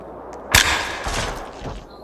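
A firework in the video game Broken Bones V goes off with a sharp, loud bang, then a crackling, rumbling tail that fades over a second or two.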